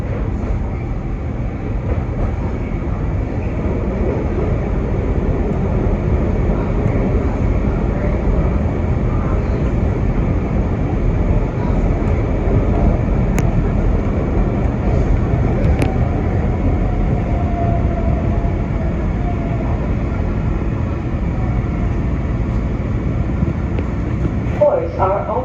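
A Market-Frankford Line elevated subway train in Philadelphia rolls along at a steady, loud rumble with rail hiss and faint squeals, heard from the front of the train as a voice talks over the noise.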